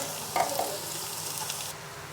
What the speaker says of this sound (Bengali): এটার সাথে আলু ভেজে নেব